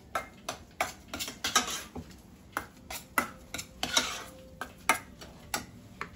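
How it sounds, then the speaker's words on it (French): A spoon stirs milk into mashed potatoes in a pot, giving a run of irregular light clicks and scrapes against the pot's side, soft and close with short pauses between strokes. "Donc je fais le mélange comme ceci."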